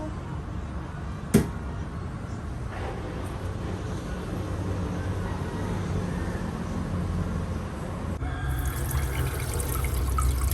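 Tap water running steadily to fill a container, a constant rushing hiss with a sharp clunk near the start and a brighter change in the flow toward the end, with no talk.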